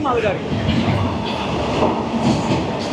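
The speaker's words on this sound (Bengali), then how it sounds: "সাউথ ইস্টার্নে কিছু মালগাড়ি চলে ভাই" A freight train on the South Eastern Railway rolls past near Mecheda station, a loud continuous rumble with rhythmic clatter of wheels, a voice talking over it.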